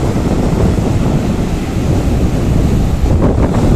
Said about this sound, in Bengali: সঁ করে শুধু হাওয়ার আওয়াজই শুনতে পাবে তোমরা